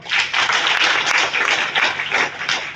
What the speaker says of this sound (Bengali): স্যারের জন্য একটা করতালি হবে।